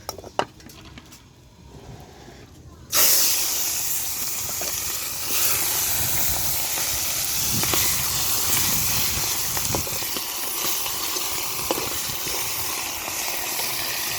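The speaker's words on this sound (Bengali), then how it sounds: "ওই কড়াতেই আমি মাছ ভাজাটা বসিয়ে দেবো" Fish hits a hot wok with a sudden loud hiss, then fries with a continuous strong sizzle and spatter, with a few utensil clinks.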